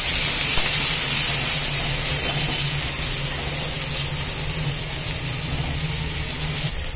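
Chopped small onions hit hot oil with asafoetida for a tamarind curry, giving a loud, continuous sizzling hiss that starts strong and gradually eases over several seconds.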